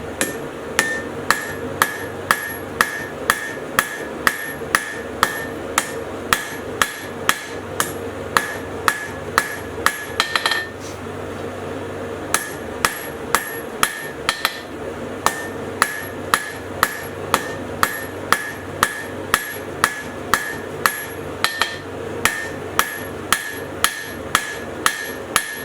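Hand hammer strikes on hot metal drawn out into a taper, a long run of sharp ringing blows at a steady rhythm with a short pause partway, loud and close with no talk.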